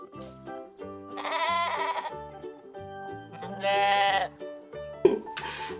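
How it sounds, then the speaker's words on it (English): Sheep on a farm bleating in a few drawn-out, wavering calls, close and clear, followed by a short sharp noise near the end. "Ba-ba goes the sheep."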